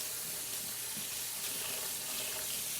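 Water runs steadily from a kitchen faucet into the sink as something is rinsed off, a continuous broadband hiss with no talk over it.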